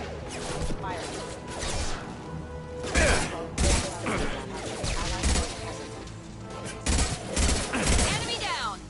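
Dense Mass Effect 2 firefight gunfire rattles and crashes in repeated bursts and heavy impacts throughout, with voices talking over the battle.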